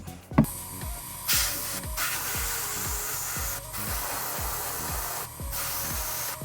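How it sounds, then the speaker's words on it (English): Aerosol can of gray primer sprayed onto the foot panels of a Master Grade Strike Rouge Gundam plastic model kit, heard as several short hissing bursts separated by brief pauses, close and fairly quiet, with faint clicks between. "So I'm just going to spray the area where we were working to fill the gap."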